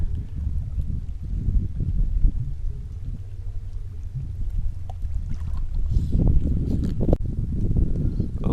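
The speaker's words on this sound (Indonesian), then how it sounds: "dikarenakan angin yang nggak mau berhenti" Strong, persistent wind buffets a small boat while someone fishes for tilapia amid waves, a low, rumbling roar that swells and gusts throughout, close and unbroken, with no talk.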